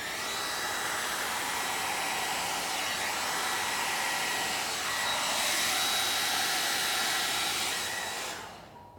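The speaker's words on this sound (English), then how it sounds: "Now I'm gonna blow it and just kind of spread it all out here." A hair dryer blows across wet acrylic paint in a Dutch pour fluid art piece, giving a steady, close whir of rushing air for about nine seconds before it cuts off.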